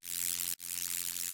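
A pitched-up erosion noise effect from a music production session plays as a bright, dense, crunchy buzzing hiss, loud and steady in two bursts split by a brief gap near the middle.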